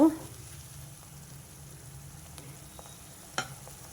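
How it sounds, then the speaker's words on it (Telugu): Chopped onions frying in a pan on a stove, turned up from a low flame while cooking a dried prawn and brinjal curry. A soft, steady sizzle runs throughout, with a faint clink near the end. "ఈ ఉల్లిపాయలు ఇంకొంచెం వేగితే బాగుంటుంది"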